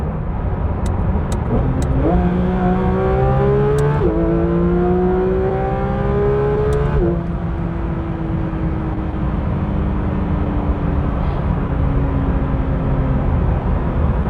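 A Porsche GT3 RS engine revs toward 9,000 RPM in rising harmonic sweeps, then holds a long, loud, high-pitched howl over steady road noise, with no talking.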